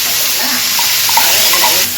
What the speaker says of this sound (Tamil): எண்ணெய் நல்லா காய்ச்சதும் கடுகு, உளுத்தம் பருப்பு, கருவேப்பிலை போடணும்